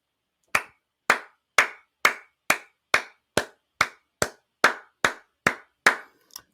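Twelve crisp single claps in an even, slow rhythm, close and alone, a measured round of applause for Kevin Durant.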